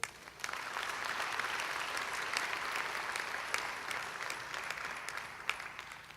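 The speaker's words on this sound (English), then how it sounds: "Now a round of applause for our president." A convocation audience at York College claps for the college president during the fall convocation. The applause is a steady, dense wash of many hands, loud and sustained for the full six seconds with no speech over it.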